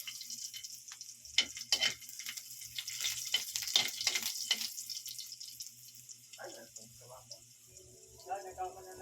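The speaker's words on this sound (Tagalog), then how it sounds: "Lagay natin yung balat ng bawang." Garlic skins crackle and sizzle in a pan over low heat while squid adobo is cooked, with close, irregular bursts of frying and clattering, then quieter handling noises.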